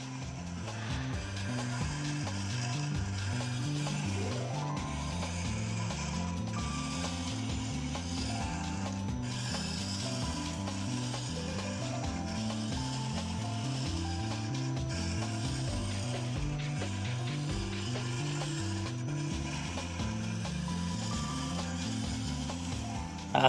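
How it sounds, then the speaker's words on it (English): A carving gouge edge is ground on a grinding wheel, a steady mechanical whir with rhythmic grinding and ratcheting pulses that continue without a break, close and even in level, with no talking. "When grinding the cutting edge, be sure to use the full width of the wheel to avoid uneven wearing."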